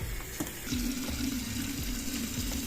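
A hand pump pushes water in a continuous watery gush with faint rhythmic mechanical thumps, moderately loud, with no speech.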